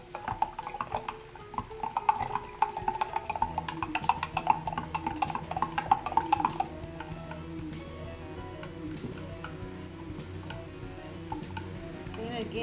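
Baking soda being stirred into water, a spoon clinking and scraping repeatedly against the container in an uneven rhythm, close and moderately loud, with soft background noise and a steadier, quieter stretch toward the end.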